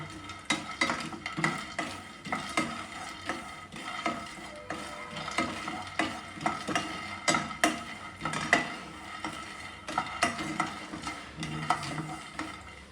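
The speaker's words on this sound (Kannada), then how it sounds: "ಹೀಗೆ ಪಟಪಟ ಅನ್ನೋರ್ಗು ರೋಸ್ಟ್ ಮಾಡ್ಕೊಳ್ಳಿ." Sabudana roasts in a pan while a spatula stirs it, a rhythmic series of scraping strokes over faint crackling and sizzling, with occasional clinks of metal on the pan.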